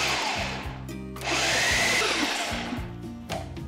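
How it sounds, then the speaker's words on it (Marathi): Mixer grinder blending a quarter kilo of regular paneer, a loud, steady whirring drone with a brief lull near one second and slight pitch shifts as the load changes, then running on strongly. "आणि हे जस्ट ब्लेंड करून घेऊयात."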